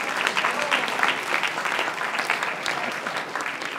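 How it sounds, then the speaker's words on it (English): Steady applause from an audience welcoming guests at a university event, a dense even wash of clapping lasting throughout, fairly distant with no talk over it. "Let's give them a round of applause."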